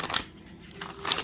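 Oracle cards being shuffled by hand, with two quick papery riffles near the start and end and a softer rustle between them, close and alone with no voice.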